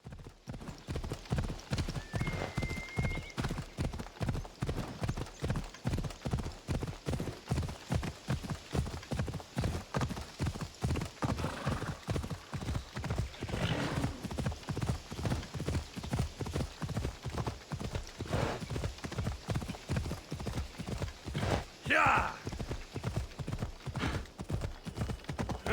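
A horse gallops in the video game Assassin's Creed Odyssey, a fast, steady drumming of hoofbeats throughout, with a brief whinny and faint background sounds in between.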